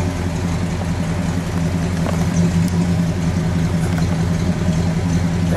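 A 1957 Chrysler 300C with dual exhaust idles, a loud, steady low rumble with an even engine pulse close by and no voices.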